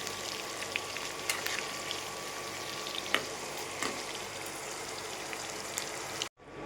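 Red and green chillies frying in hot oil give a steady, close crackling sizzle with scattered pops, running on without talk before cutting off abruptly near the end.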